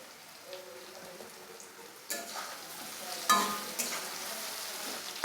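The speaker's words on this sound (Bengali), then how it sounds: "এদিকে আমার ডাটার আর আলুটাও একদম লাল লাল করে ভাজা ভাজা হয়ে গেছে" Potatoes and vegetable stems sizzle and fry in a pan until browned, a soft hiss that grows louder with occasional stirring scrapes, no talking.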